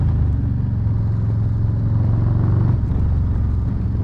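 A Harley-Davidson Low Rider S motorcycle on a morning commute in Los Angeles gives a loud, steady, deep engine rumble heard from the rider's position, with a slight shift in tone near the end and no voices.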